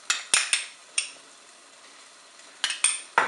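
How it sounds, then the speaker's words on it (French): A spoon clinks and scrapes against a metal pot while mustard is stirred into a thickening sauce, with a few sharp, bright taps spaced irregularly over quiet stirring. "Je vais mélanger."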